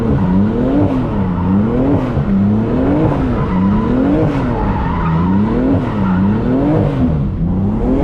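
A manual BMW F80 M3 drifting sideways, its engine droning in a rising and falling wail as the tires squeal continuously, close and loud throughout.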